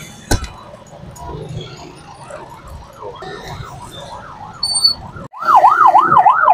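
An ambulance siren wails in heavy traffic on a floodway road near a bridge in Cainta, faint at first over engine noise, then suddenly loud and close in rapid rising-falling sweeps.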